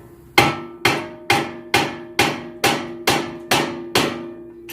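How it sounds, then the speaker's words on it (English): A hammer strikes a CV axle on a 1997 Honda Civic nine times in an even rhythm, each blow a sharp ringing clang that decays before the next. "I like to hit this with a hammer"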